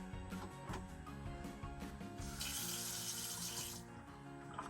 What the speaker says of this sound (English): We have a deep sink and our faucet is a gooseneck style.